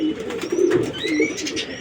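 Pigeons coo inside their loft at close range, their soft throaty, rolling calls overlapping in a continuous murmur with a few higher chirps, and no one speaking.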